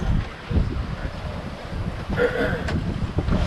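Strong wind roars across the microphone at sea in squalls of 25 to 35 knots during a Pacific crossing, a constant gusty rumble with faint water noise, no voices.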